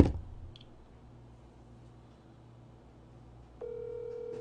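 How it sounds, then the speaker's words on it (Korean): An outgoing phone call begins: a faint line hiss and a small click, then a steady electronic ringing tone starts and holds evenly through the end. "일단 흥민이한테 전화해볼게요."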